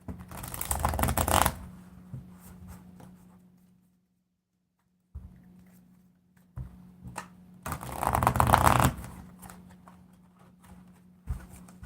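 Tarot cards are shuffled in two quick riffling bursts separated by quiet pauses, with soft handling clicks between them.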